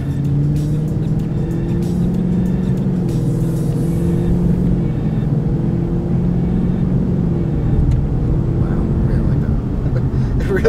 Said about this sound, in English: We're gonna go take it for a drive and find out how fast it really is.